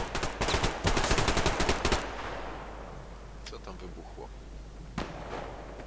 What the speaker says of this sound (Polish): Co tam wybuchło?